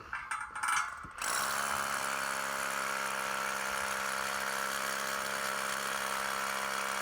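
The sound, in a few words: SDS hammer drill drilling hole for wedge anchor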